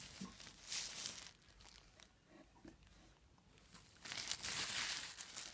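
Plastic bag packaging of a Silvercrest SC HN03 humidifier crinkles and rustles in soft bursts, quiet at first and swelling into denser crackling near the end, with no voices.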